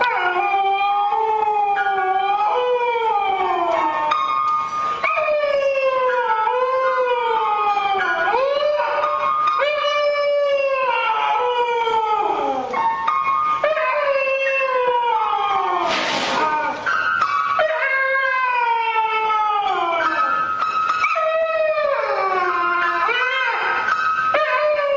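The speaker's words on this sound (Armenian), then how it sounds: "այս շունը դաշնամուրի վրա հետ ու առաջ է գնում, նվագում ու միաժամանակ երգում" A dog howls and whimpers in rising and falling sustained tones while piano notes sound along with it, a continuous loud performance over the whole stretch.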